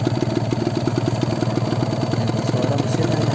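Kawasaki Ninja RR two-stroke motorcycle engine idling in stock condition, a close, loud, rapid and even putter with a rattly edge, running steadily throughout.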